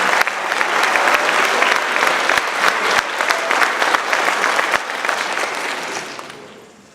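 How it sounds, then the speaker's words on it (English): An audience at an 8th grade cadet elevation ceremony applauds for about seven seconds, close and loud clapping with sharp individual claps standing out, tapering off at the end. "So we can give him a round of applause"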